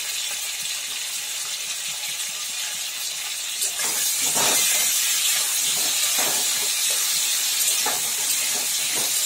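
Tomatoes cooking down in a pan give a steady sizzling hiss that swells louder partway through, with scattered soft pops and crackles over the bubbling.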